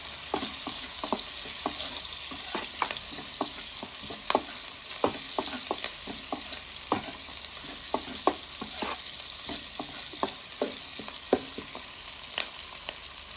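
Onion and garlic sauté in a frying pan with a continuous soft sizzle, broken by frequent sharp clicks and scrapes of stirring that come at an irregular pace, with no voices.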